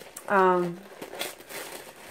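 A plastic bag wrapping a liquid product crinkles during a subscription box unboxing, short crackling rustles following a brief voiced sound.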